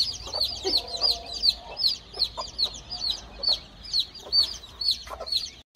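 A desi country hen clucks softly and steadily while her chicks sheltering under her give a continuous run of high, rapid peeping chirps, all close by.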